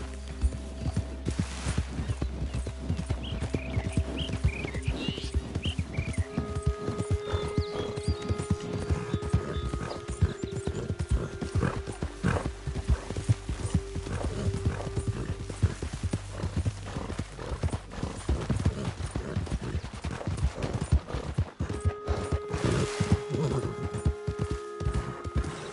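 Horse hoofbeats in Red Dead Redemption II drum in a fast, continuous clip-clop rhythm as the rider travels, with tack rattling and low game ambience, and almost no talking.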